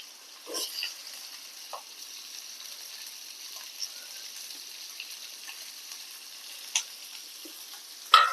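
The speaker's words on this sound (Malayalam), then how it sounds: "സവോള ചെറുതായിട്ടൊന്ന് വഴണ്ടി കിട്ടിയാൽ മതി നമുക്ക്" Chopped onion sautés in a pan for chilli sausage, a faint, steady hiss of sizzling with a few light stirring clicks and a louder clatter at the very end, no voices.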